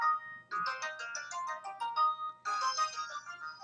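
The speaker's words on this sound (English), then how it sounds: "my phone's going off and I thought I had it turned off" A mobile phone ringtone plays as a bright, bouncy electronic melody of quick repeated notes, clear and fairly close, briefly pausing before the tune starts again.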